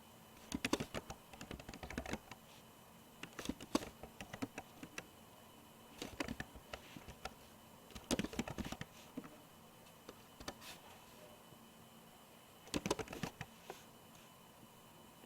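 Quiet, close keyboard typing as data is entered into a Microsoft Word table: short clusters of rapid key clicks separated by pauses, against a faint background hum.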